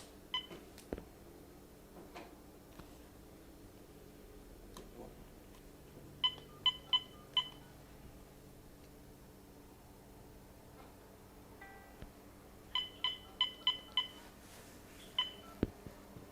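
A telephone dials out with touch-tone beeps, two quick runs of several tones each separated by a long pause, over faint room hiss and a few scattered clicks.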